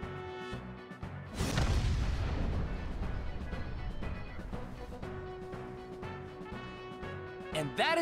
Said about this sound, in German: the burning fuse inside the body reaches the explosives